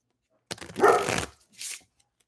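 Dogs bark outside in a backyard, with one loud, strained bark and then a shorter second yelp, close and clear against near silence.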